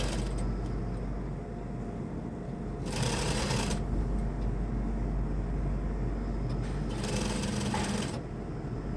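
A sewing machine stitches a stiffened, folded men's shirt cuff in two loud, steady bursts, each lasting about a second, over a constant low mechanical hum with no voices.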